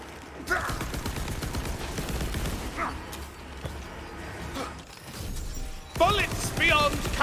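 Rapid gunfire from the video game Tiny Tina's Wonderlands, with dense bursts of shots and mechanical clatter running throughout, loud and continuous, with game sound effects mixed in.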